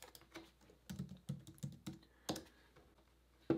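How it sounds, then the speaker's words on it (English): Rapid keystrokes on a computer keyboard as a word is typed into a design app's search box: a close, uneven run of crisp clicks, heard alone. "I went here and I typed in the word Mexico."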